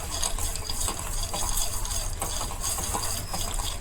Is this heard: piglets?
no